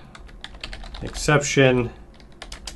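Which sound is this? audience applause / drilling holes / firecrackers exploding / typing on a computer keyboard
typing on a computer keyboard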